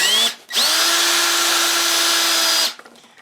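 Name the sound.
cordless hammer drill drilling into wood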